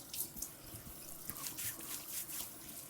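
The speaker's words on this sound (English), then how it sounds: "switching to cold water" Cold water runs from a bathroom tap during shaving, a faint, steady hiss and splash with small irregular spatters.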